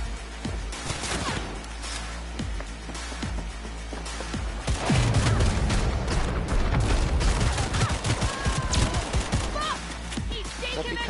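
Rapid gunfire bursts in the video game Cyberpunk 2077, dense, loud crackling volleys that swell heavier in the second half, with a voice talking over the shooting.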